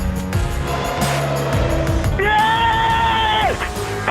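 A Mercedes Formula 1 race car heads toward the finish line, its high engine whine rising and falling under crowd noise and excited commentary, with a sustained shrill tone in the middle.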